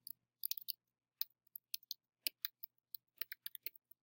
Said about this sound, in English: So I type something in.